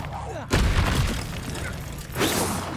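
A Confringo explosive spell from Hogwarts Legacy bursts in a loud, booming blast with a sharp onset, followed by sustained rumbling and a second swell near the end, mixed with game sounds and voices.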